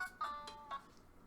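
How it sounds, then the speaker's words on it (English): A faint phone ringtone plays a few quick bright tones, short and close, with no voices over it. "And there's my phone going off."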